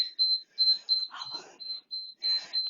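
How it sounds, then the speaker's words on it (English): A workout timer during a unilateral Tabata HIIT session beeps in a regular series of short, high electronic tones, with a voice briefly talking over it in the middle. "As soon as this timer finishes beeping, we're coming into our opposite leg."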